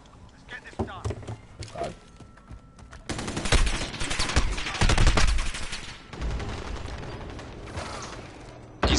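Gunfire in a multiplayer shooter video game crackles in rapid bursts and fusillades, rising loud mid-way and continuing in uneven volleys alongside mechanical clatter, with players talking over the action.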